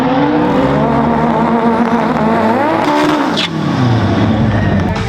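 Fast drag cars roar down a drag strip, engines revving and rising in pitch as they launch and pass close by, loud and continuous with a brief tire squeal and wind-like rush between runs.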